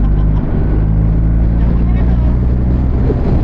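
An old-style motorcycle being ridden on a highway, its engine drone loud and steady with heavy wind rush throughout.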